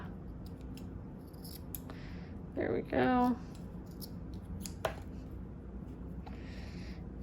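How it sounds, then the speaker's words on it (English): A short run of scissor snips cuts through paper, a few quick crisp clicks, with a brief spoken remark and light background noise. "it doesn't cut very well with these scissors"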